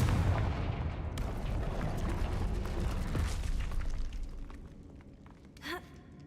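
A Confringo blast spell explodes in Hogwarts Legacy with a loud, booming burst that rumbles and decays over several seconds, followed by a brief sharp crackle near the end.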